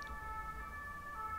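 A fire engine or police siren passing outside, heard faintly through the room as a steady wailing tone over low rumbling background noise.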